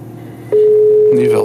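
An outgoing phone call tone plays through Apple CarPlay in a Mercedes-AMG E 53 4MATIC+ Coupé, a single steady tone that starts abruptly and holds loud and clear, with a voice briefly joining near the end.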